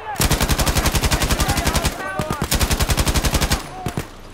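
Automatic gunfire from a machine gun in the video game Battlefield V, rapid loud bursts of evenly spaced shots with a brief pause near the middle, then a final sputter of rounds as it stops.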